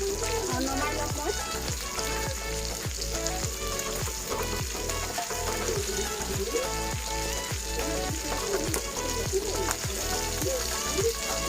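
Brinjal pieces fry in hot oil for an Assamese brinjal-and-fish dish, a steady close sizzle broken by regular clattering stirs throughout.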